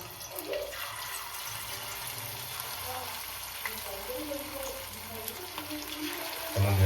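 Battered chicken pakodi pieces, coated in maida, sizzle in hot oil, a continuous close crackling hiss with a sudden louder burst at the very end.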